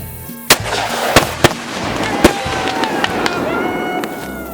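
Several sharp gunshots crack out at irregular intervals, five or six loud reports with a steady background noise between them.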